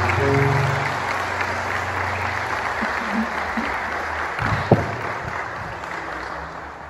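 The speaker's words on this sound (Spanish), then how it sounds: "Dele un aplauso al Señor bien fuerte en esta mañana." A church congregation applauds during a Spanish-language sermon, a sustained broadband clatter of many hands that carries evenly through the clip, with a few faint voices and one brief sharp knock near the end.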